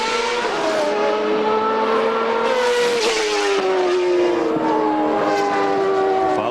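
CART race car on a qualifying lap at Portland in 2002, a loud high engine scream rising and falling through gear changes as it passes close by, continuous with no talking.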